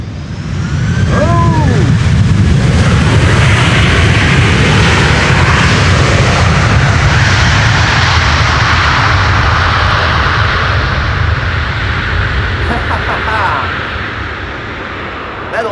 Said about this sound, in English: You don't expect it from KLM wide bodies, the reversers being applied